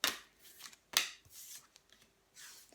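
Tarot cards being shuffled up close, several quick riffling bursts and soft slaps of the deck in a quiet room.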